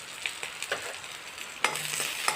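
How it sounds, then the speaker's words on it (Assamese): Chilies fry in a small amount of oil for an Assamese khar dish, giving a soft steady sizzle broken by a few crisp stirring clicks and a louder burst near the end. "অকণমান ভাজি লৈছোঁ।"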